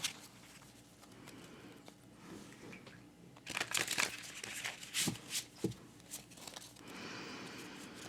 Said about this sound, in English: let's do a little shuffling here